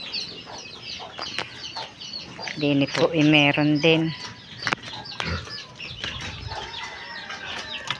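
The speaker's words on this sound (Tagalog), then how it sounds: "Kami nga po may mga sisiw din dito. Yan, nakakulong po ang inahin." A caged mother hen clucks in a burst of loud, close calls alongside her chicks in a rural Philippine yard, with wing flapping and people talking throughout.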